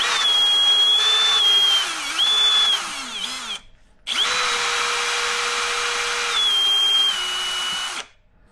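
A cordless power tool gun whines loudly at high speed on a car rear end, running in two long bursts with pitch dips as it loads up, separated by a short silence.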